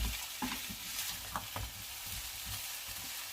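Steaks sizzle steadily in a hot frying pan during a steak dinner cook, with a few louder scraping, stirring knocks as the meat is turned. The frying is close and continuous, with no talking.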